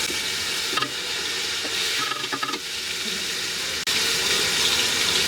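Whole spices, bay leaves, cardamom, cinnamon and ginger-garlic paste sizzling in hot oil for a chicken vegetable tehari: a dense, constant hiss close up, with a few stirring scrapes and a brief dip before the frying roars on.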